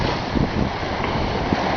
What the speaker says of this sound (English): Wind's blowing probably up around 18 knots.